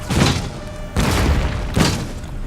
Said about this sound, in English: More mortar shots are coming in now.